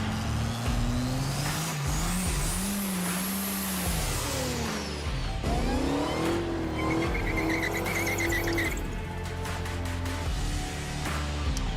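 Two cars, a Smokestang and a Dodge Demon, race in Fortnite, their engines roaring loud and steady with rising and falling revs and a tire squeal, sustained throughout with no talk.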